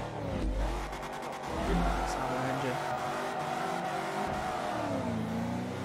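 Dodge car engine revving hard with tire wheelspin in the Forza Motorsport 3 racing game, a loud continuous roar rising and falling, with someone talking over it.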